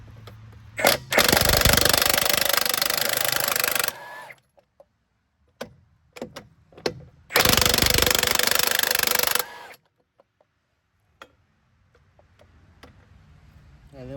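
A Milwaukee M18 Fuel 1-inch cordless impact wrench works truck lug nuts in two loud, close bursts of several seconds each of rapid hammering, separated by clicks, clunks and quieter handling noise.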